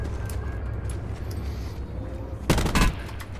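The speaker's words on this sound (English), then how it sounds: "burst firing rifle." A burst-fire rifle in Call of Duty Black Ops 4 Blackout fires two quick, loud bursts of sharp rapid shots near the end, over a low rumbling game background.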